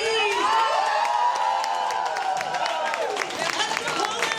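An evening comedy and matchmaking show audience in Berlin claps and cheers loudly for the winner, with shrill whoops and shouts rising over continuous applause.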